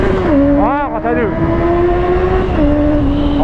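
A Suzuki Bandit 650 motorcycle engine revs up under full acceleration with rising pitch, dips, then holds a steady whine before shifting again, loud and close.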